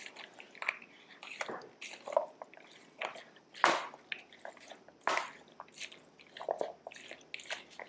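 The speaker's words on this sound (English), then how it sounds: "Give it a mighty stir." A spoon stirs fresh salsa with cilantro and red pepper flakes in a bowl, giving wet, squishy strokes in uneven bursts, close and fairly quiet, with no talking.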